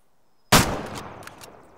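A single sharp rifle shot in the hunting game Way of the Hunter cracks loudly after a half second of near silence, then rolls off in a long echoing tail with faint distant after-reports.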